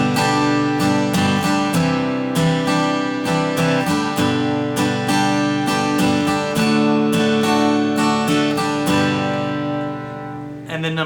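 Acoustic guitar strummed through a chord progression at a beginner guitar class, steady rhythmic downstrokes and chord changes played loud and close with no talking.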